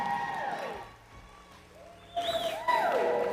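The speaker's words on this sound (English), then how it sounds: "Please give her a round of applause." An audience at a youth livestock sheep show in Hays County breaks into applause with a few whoops, swelling loudly over a busy arena.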